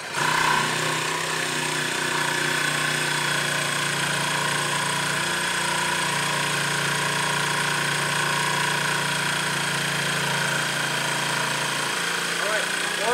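A Ryobi jigsaw fitted with a brand-new blade cuts continuously, a loud, steady buzzing rattle that runs without a break for the whole stretch.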